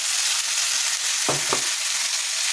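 Ground spice paste goes into a pan of fried tilapia masala and sizzles in a steady, loud hiss, with two brief soft knocks from stirring partway through and no voices.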